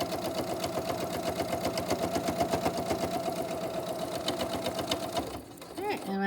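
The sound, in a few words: sewing machine stitching the last seam of a pleated face mask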